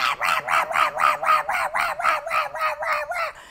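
A person imitates a chihuahua barking, with about a dozen rapid, evenly spaced yips in a quick run, loud and close.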